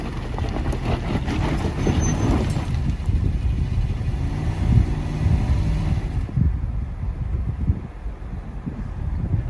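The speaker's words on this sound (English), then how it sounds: "Don't try, all four wheels are spinning." A new Land Rover Defender 110 off-road in low range first gear, all four wheels spinning in deep mud ruts, a loud churning engine roar and rumble with wind buffeting the microphone, easing toward the end.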